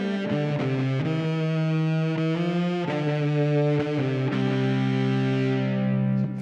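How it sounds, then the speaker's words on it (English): A sustained bowed violin melody through a Boss SY-1000 distortion effect, buzzy and heavily distorted with a thick, saturated tone, played alone as notes shift and slide. "The first one that comes to mind is the distortion."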